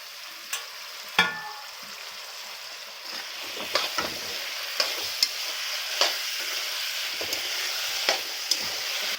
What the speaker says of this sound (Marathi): हे बघ सगळ्या भाज्या टाकून घ्यायच्या